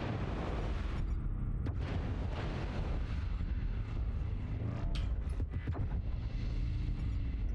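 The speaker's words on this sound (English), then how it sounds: "Affirmative! Artillery strike activated." An artillery strike in the video game Mechwarrior Online lands as a run of heavy, rumbling blasts and cracks. The barrage is loud and close, and metallic creaks sound through it.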